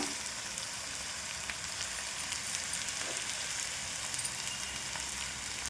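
Amaranth leaves simmering in a pan with salt and chili powder, giving off a steady, soft sizzle and hiss with light crackles throughout, fairly quiet and unbroken.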